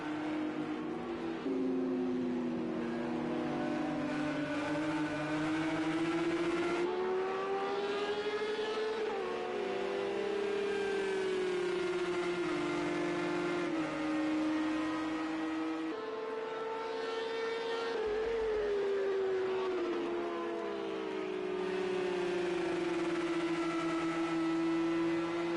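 Porsche race cars lapping Silverstone in a PS4 racing game produce a steady, loud engine whine whose pitch rises and falls with gear changes and throttle, continuing for the whole stretch with no talking.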